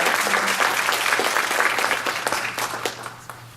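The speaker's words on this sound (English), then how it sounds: "Another round of applause for Asha." A crowd at a Girl Scouts event applauds steadily, the clapping dense at first and then gradually thinning and fading out over a few seconds.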